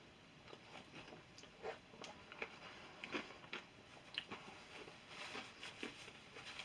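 Someone chews a crunchy mouthful of a 2018 Canadian IMP beef macaroni ration, with faint, close, irregular crunching and soft bites scattered over several seconds, quiet with no talk.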